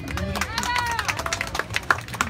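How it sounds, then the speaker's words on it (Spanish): An audience claps for a contestant at a Children's Day festivity, with scattered handclaps and crowd murmur over a short stretch and people talking and calling out throughout. "El aplauso para Turi."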